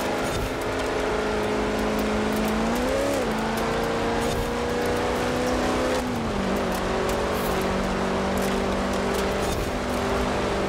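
A pickup truck engine in Forza Horizon 4 drones steadily and loud throughout, its pitch shifting twice as gears change, with faint tyre noise and no talking.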